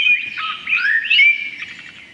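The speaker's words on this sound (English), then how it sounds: "this bird, what you can hear now, this one attracted the fewest mates" A male songbird delivers a bright recorded song of quick chirps and rising, warbling trills, loud and close, in two or three bursts with no other sounds.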